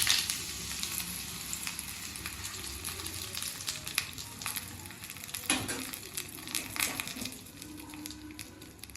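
Chilies fry in a hot pan with oil, giving a steady close sizzle and crackle throughout, with occasional stirring scrapes and pops and no one speaking.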